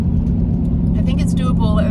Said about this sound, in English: the traffic's terrible here right now